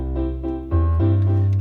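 Lowrey Easy 4 organ playing its Rock Pianist 50s-style rhythm, with loud sustained chord tones over a bass note that steps to a new pitch partway through this brief excerpt.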